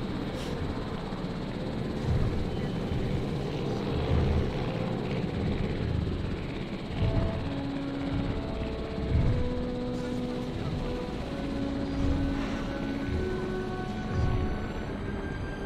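Helicopters in Jurassic World Evolution thrum in the background as a steady rotor drone with occasional swells, partly under someone talking.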